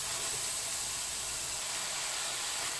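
Onions sautéing in a pan, a dense steady hiss of sizzling oil, close and continuous for a few seconds with no talking.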